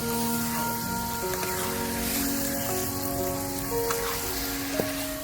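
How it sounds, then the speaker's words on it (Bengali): Chicken pieces for a chicken curry sizzle steadily in hot oil in a pan, a continuous broadband crackle and hiss at moderate level with faint stirring, no talk. "এবারে চিকেন কারিটা দিয়ে দিচ্ছি চিকেনটা সুন্দর করে দিয়ে ভালো করে কষিয়ে নিতে হবে কিছুক্ষণ"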